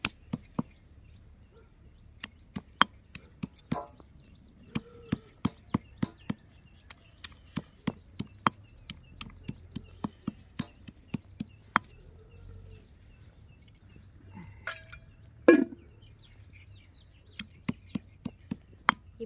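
Garlic and green chili are crushed on a stone slab, with repeated sharp knocks and grinding taps in an irregular rhythm, close and distinct against a quiet background.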